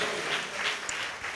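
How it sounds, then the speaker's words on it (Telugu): Brief applause from a church audience during a sermon, a steady wash of clapping that lasts just over a second. "చప్పట్లు కొట్టాలనిపించట్లేదు మీకు"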